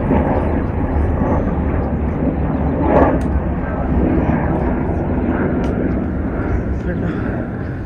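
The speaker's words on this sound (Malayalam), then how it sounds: "എപ്പം നോക്കിയാൽ ഹെലികോപ്റ്റർ പോകുന്നതാണ്" Steady low engine drone of a helicopter passing overhead on the Everest Base Camp trek in the mountains, loud and continuous, with a voice talking over it.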